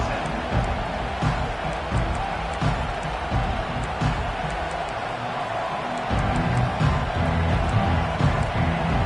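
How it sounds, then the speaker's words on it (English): Stadium crowd roaring continuously in College Football 25 during an Army versus Virginia Tech game, a dense, loud wash of cheering that swells louder near the end. "This crowd, full throat, splitting the eardrums"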